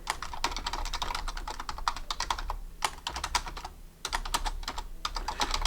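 Steady, rapid typing on a computer keyboard, close and fairly quiet, with a brief pause in the middle before the keystrokes resume.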